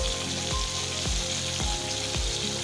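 Ginger, garlic and green chili paste frying with onions for dhaba-style chicken, a loud, steady sizzle with regular clinks of a spoon stirring in the pan.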